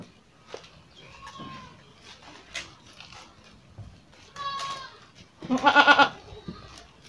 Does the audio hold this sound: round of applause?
no